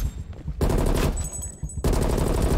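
Automatic gunfire in the video game Call of Duty: Black Ops Cold War on a PS4 Pro, two long, loud, rapid bursts of close shots separated by a short pause.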